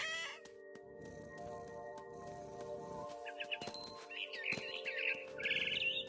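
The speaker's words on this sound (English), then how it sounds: "All I cared about was eating that mama bird." A mama bird in the video game What Remains of Edith Finch chirps in short, high twittering bursts over a steady humming game ambience, growing louder toward the end.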